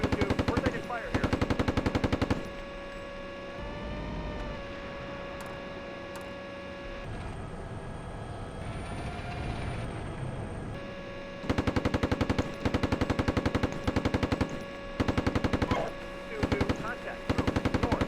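Rapid bursts of machine gun fire in a military video game, loud sustained rattling volleys opening and closing the stretch with a droning engine-like tone and faint radio talk in between.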